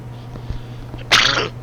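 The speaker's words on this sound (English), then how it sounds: "Dang it, I had to sneeze." A single sharp human sneeze bursts out near the end, loud and close, after quiet room tone with a low steady hum.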